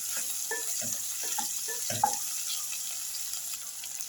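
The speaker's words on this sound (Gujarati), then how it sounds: "એને આમાં આપણે સાતડે રાખશું એટલે ચણાના લોટની કાચી સ્મેલ ના આવે." Half a spoon of gram flour being sautéed in a pan while cooking tindora, a soft continuous sizzle with faint scraping stirs and a few small clinks, fairly quiet and without talk.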